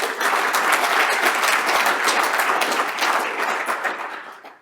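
Audience at a biomedical engineering facilities launch breaks into warm, steady applause welcoming a speaker to the podium, dense clapping throughout that fades out at the end.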